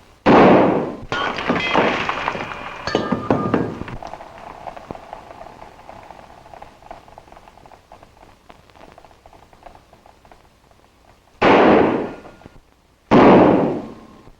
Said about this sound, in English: Let's get down to some fancy Oklahoma shooting.